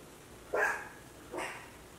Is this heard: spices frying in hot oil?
no